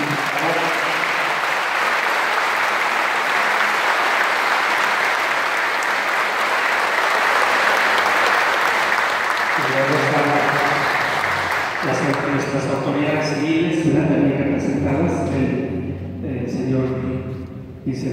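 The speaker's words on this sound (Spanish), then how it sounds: "les vamos a brindar un fuerte aplauso" A parish congregation gives loud applause during a bishop's visit, a thick steady roar of clapping for about ten seconds. A voice then speaks over the fading applause, which ends near the close.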